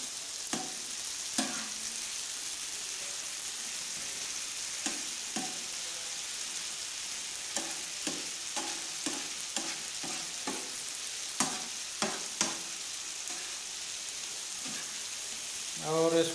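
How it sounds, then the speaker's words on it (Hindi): Chicken pieces fry on a tawa griddle under a steady low sizzle, punctuated by frequent spatula scrapes and taps as the pieces are turned, with no speech. "इसको पकाते रहना है, फ्राई करते रहना है तवे के ऊपर।"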